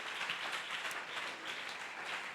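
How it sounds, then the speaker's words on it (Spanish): A church congregation applauds steadily during a sermon, a soft, continuous patter of many hands heard at a distance. "dele ese aplauso fuerte, hermano"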